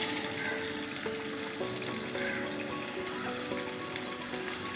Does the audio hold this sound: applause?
no